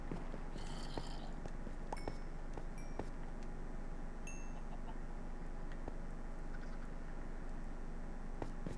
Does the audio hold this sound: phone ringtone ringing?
no